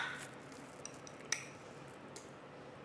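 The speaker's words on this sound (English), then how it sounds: "we're having about 2 tablespoons of that to add into the blender" About two tablespoons of pumpkin puree are spooned into a blender, giving a few faint clinks and taps of a spoon against the container in a quiet kitchen.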